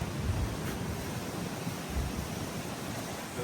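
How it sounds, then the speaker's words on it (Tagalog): Strong sea waves surge at a shoreline in Dingalan, a continuous loud wash of surf with low swells and rough wind buffeting, no voices. "Grabe, lakas ng alon."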